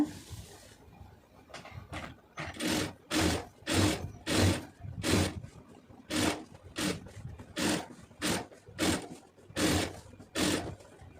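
A sewing machine runs a line of stitching along the neck lining of a lace-trimmed round-neck garment, in repeated short bursts of whirring separated by brief pauses, close and fairly loud.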